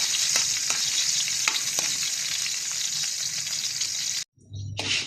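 Onion and garlic sizzling in hot oil in a pan, a loud, steady fry with intermittent scrapes of stirring, close up, before a brief pause and a short clatter at the end.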